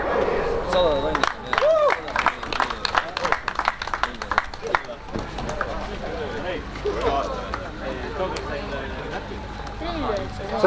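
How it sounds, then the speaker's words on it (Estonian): Applause and cheering from a crowd at a motocross podium ceremony at a spring race in Põlva, Estonia, heard under a loud announcer's voice over the PA, with scattered claps and crowd noise throughout. "Sandrile aplaus"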